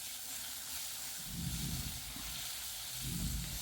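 Spices sizzling together in a hot pan while a coriander pickle is cooked, a steady frying hiss with low bursts of bubbling and crackle swelling twice, quiet and close.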